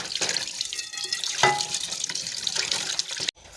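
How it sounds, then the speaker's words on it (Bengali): Tap water runs steadily over beef being washed in a sink, a close, continuous splashing stream that stops abruptly near the end. "মাংস ধোয়া শেষ এখন রান্না উঠে দেবো"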